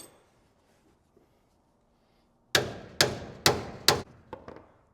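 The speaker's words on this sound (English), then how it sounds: "we got it with my biggest hammer" A big hammer pounds a seized bolt on a Jeep Gladiator during a lift kit install: four loud, sharp metallic strikes about half a second apart, then a few lighter taps, after a quiet start.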